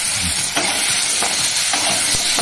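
Katla fish frying in a pan for a Bengali tomato kalia, a steady close sizzle with faint stirring scrapes breaking through at intervals, no talking.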